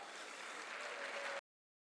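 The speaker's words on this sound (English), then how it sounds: "let's give a round of applause to our lovely sponsors who we love" An audience claps steadily for event sponsors, a dense, moderately faint wash of applause that cuts off abruptly.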